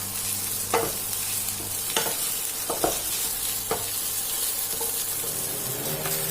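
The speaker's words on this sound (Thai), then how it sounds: "แล้วก็ผัดให้ข้าวแห้งนิดนึงค่ะ เราจะผัดนานเล็กน้อยนะคะ" Garlic fried rice is stir-fried in a pan over medium heat: steady sizzling broken by several sharp spatula scrapes at uneven intervals, close up, with no speech.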